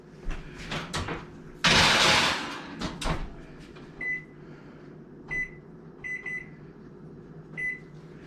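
A Kool-Aid pie crust goes into an oven: clunks and handling knocks, a loud rushing burst as the door swings, then a series of sharp electronic beeps as the timer is set, close by with no talking.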